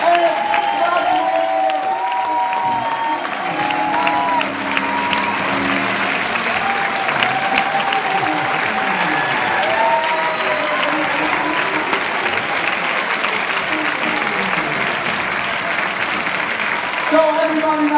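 Loud audience applause fills a dance competition show performance, dense sustained clapping with some cheering throughout, steady and close, with a voice speaking over it.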